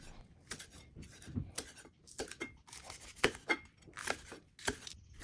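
A knife chops rhythmically against a cutting board, quick irregular taps of slicing chili peppers, close and fairly quiet.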